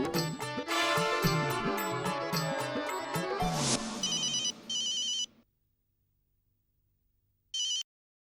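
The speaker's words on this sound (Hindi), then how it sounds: "भूतनाथ को फोन करके बोल देता हूँ कि वर्मा जी से बात हो गई है।" A telephone rings on an outgoing call in a household scene of an Indian TV sitcom: a loud, melodic ringing tone runs for about five seconds, then stops, followed by silence and one brief final ring burst.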